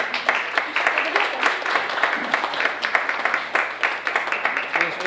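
An audience at a school award ceremony applauds a teacher with steady, dense clapping from a nearby crowd that lasts throughout.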